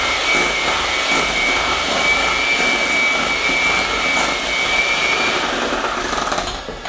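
An electric mixer whirs steadily close by, beating chocolate beer cake batter of margarine creamed into sugar, a constant high motor drone with a faint whine and no pauses.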